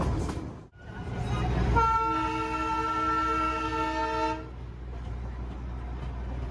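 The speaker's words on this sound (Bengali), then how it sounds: "ঘুম স্টেশন ছেড়ে আমাদের ট্রেন এগিয়ে চললো তার পরবর্তী স্টেশন সোনাদার দিকে" Darjeeling toy train running between hill stations, leaving Ghum for Sonada, sounds a long, loud steady horn blast over the rumble of the moving carriages, with the horn dropping away and the rolling noise continuing.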